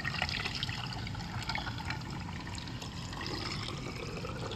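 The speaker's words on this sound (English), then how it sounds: "I'm going to carefully pour it inside the Pureline salt cell." Acid cleaning solution is poured into a Pureline salt cell from a pool chlorinator, a close, steady liquid pour with faint gurgling trickles running throughout, no talking.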